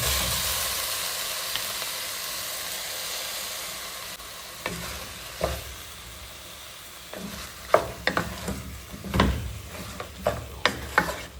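Onion hits hot sauce in a pan for an abacha dish, giving a steady sizzle with a run of sharp scraping stirs that grow busier toward the end, close and fairly loud with no talk.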